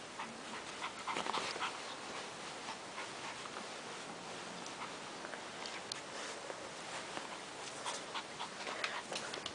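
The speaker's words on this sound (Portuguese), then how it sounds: "como gostou dessa cachorrinha que te dei, né?" A small puppy wearing a bow pants steadily up close, with faint whimpering and scattered small scratches or ticks over an even, moderately quiet backdrop.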